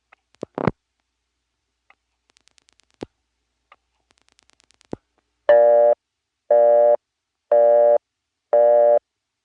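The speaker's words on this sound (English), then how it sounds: "I'm going to dial my own 7-digit number, which will result in a busy signal" A 1970s step-by-step telephone exchange in Rock Hill, South Carolina, gives a busy signal from a coin phone: four evenly spaced buzzing tones, each about half a second long, follow earlier sparse clicks and ticks of switching.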